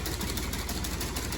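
A Ferguson Type 198 finger bar mower runs at low revs, its cutter bar chattering in a fast, even, rattling rhythm that sounds faint and steady.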